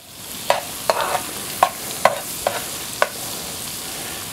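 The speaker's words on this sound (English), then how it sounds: "we're going to saute this up until it gets soft" Smoked sausage, chopped veggies and mushrooms sautéing in a pan, a steady sizzle broken by several sharp utensil scrapes and taps at irregular intervals, close and clear with no talking.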